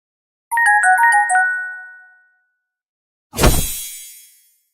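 A short chiming electronic phone ringtone plays a quick run of bright tones that rings out and fades, followed by a separate sharp clanging hit that decays, with no talking.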